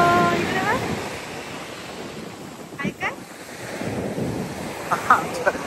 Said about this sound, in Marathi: पाण्याचा आवाज बघा तुम्ही. आवाज ऐकूनच मला मजा येते. हल्ली लाटा थोड्या जास्त आहेत.